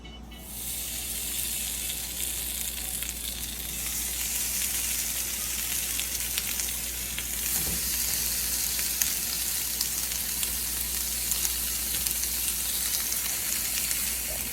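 Chicken pinchos sizzle on a very hot oiled griddle, a steady bright frying hiss that continues evenly and fairly loud with no talking, a soft low hum underneath.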